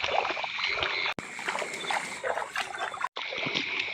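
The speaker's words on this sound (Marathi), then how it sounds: "हो धावता चिखलात ना" Feet splash and squelch through thick mud and shallow water on a rainy night in the Konkan countryside, with several quick wet steps close by and brief pauses between bursts.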